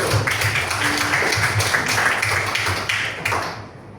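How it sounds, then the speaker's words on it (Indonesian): A classroom of students applauds a student group in a coding and artificial intelligence lesson, a dense, steady round of clapping that fades at the end. "Tepuk tangan untuk kelompok 1."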